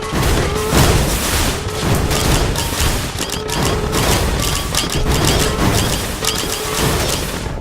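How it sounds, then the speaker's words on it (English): Video-game missile explosions in Risk of Rain boom and crash repeatedly, a dense, loud barrage of rapid blasts that continues without a break. "They fire missiles at us."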